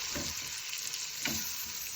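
Pulao rice for a goat biryani cooks in a pot with a constant close sizzle, broken by two soft scraping stirs.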